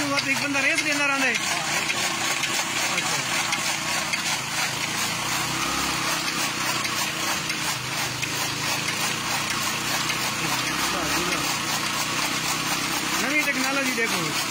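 An engine-driven toka fodder cutting machine runs nonstop with a coarse mechanical clatter and drone, close and loud, while people talk throughout.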